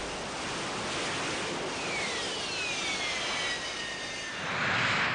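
Jet engines of an early vertical takeoff and landing test aircraft, four for lift and one for forward flight, giving a steady loud roar with rising whine tones, heard alone and swelling toward the end.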